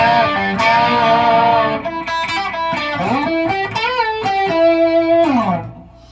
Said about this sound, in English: Now this is going to be out of a major pentatonic scale out of E